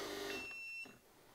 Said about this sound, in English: so we can hear a little bit better, except for the beeping.